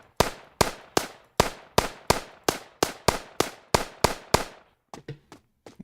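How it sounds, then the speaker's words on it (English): A rapid string of about twelve sharp, evenly spaced gunshots from a zombie shooter game built in Unity, each with a short decay, followed by a few quieter shots and shell clinks near the end. "So let me show shooting."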